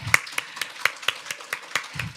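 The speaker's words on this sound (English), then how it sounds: "can we please clap our two interpreters who will be servicing us for the next few hours?" An audience claps for two interpreters at a care-service conference, roughly ten distinct, somewhat scattered handclaps over two seconds, close and fairly loud with no talking.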